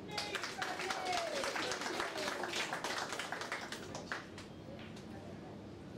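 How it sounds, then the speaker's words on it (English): Applause from a crowd at a women's teams final in a national tournament for officials, a broad wash of clapping with some taps and a murmur of voices, fairly steady for the whole stretch and thinning slightly near the end. "All round of applause for the officials."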